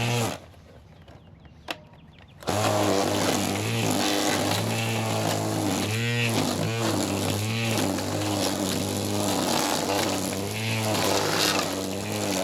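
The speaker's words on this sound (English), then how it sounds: "I'm going to use it as just a weed eater first." VARSK 20V 12-inch cordless string trimmer cutting weeds along a fence, quiet handling, then a sudden loud motor whine with the line buzzing and wavering as it chews through growth, continuing steadily to the end.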